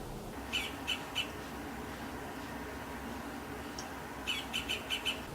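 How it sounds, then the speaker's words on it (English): A bird outdoors gives repeated sharp chirps in two brief clusters, one early and one near the end, faint behind a steady background hiss, with no talking. "There's a bird outside that really needs to calm down."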